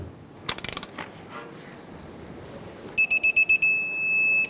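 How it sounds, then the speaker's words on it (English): A torque wrench tightens a front brake hose bolt to 35 foot-pounds on a 2008-2010 Ford F-250 Super Duty: a quick burst of ratchet clicks, then a run of loud electronic beeps ending in a steady tone. "Let's get the torque wrench."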